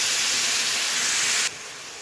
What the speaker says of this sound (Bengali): এখানে আমি 3 থেকে 4টে বড় সাইজের পেঁয়াজ বাটা নিয়েছি, সেটি এই তেলের মধ্যে দিয়ে দিলাম